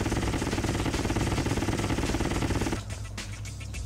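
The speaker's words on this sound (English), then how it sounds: "look at this honeycomb barrier, and just shoot at it with every gun and just see what it does" Rapid automatic gunfire from the G Police video game hammers a honeycomb barrier in a loud, fast, even rattle, then gives way to a duller mechanical burst of sharper separated shots.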